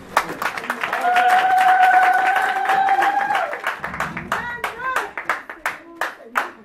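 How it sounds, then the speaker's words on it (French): A church congregation claps and cheers for the Lord at a French-language worship service, loud sustained applause with voices and cries, then dwindling into scattered individual claps. "Acclamons pour le Seigneur."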